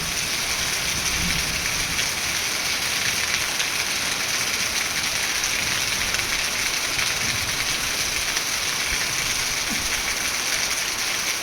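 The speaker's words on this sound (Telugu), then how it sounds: "చెర్రలో కుండపోత వర్షం పడతా ఉంది" A torrential downpour falls in a village, a steady, dense hiss of rain beating on surfaces that continues evenly throughout with no talking.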